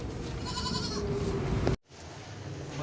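Goats bleating at a livestock market, a couple of close, wavering bleats over crowd murmur before a brief cut, then quieter market background.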